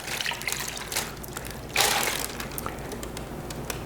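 A liquid mixture poured over pork tenderloin in a cooking dish, a soft trickling and splashing with a brief louder gush midway, close and faint, with small clinks around it.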